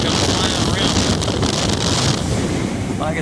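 Strong wind buffets the microphone continuously aboard a 2019 Tahoe 2150 center console deck boat, a dense roaring rush with water sloshing underneath.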